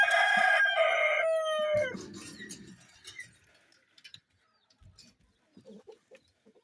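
A Kienyeji rooster on a small Kenyan chicken farm gives one loud, drawn-out crow up close that fades into soft clucks and scattered farmyard noises.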